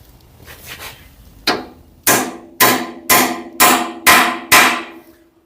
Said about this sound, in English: So nothing too tricky, just with a hammer.